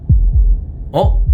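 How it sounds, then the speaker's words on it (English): Heartbeat from the video game Slay the Princess: low, soft thumps in two lub-dub pairs. A brief voiced sound rises over the second pair. "That was the sound of a heartbeat."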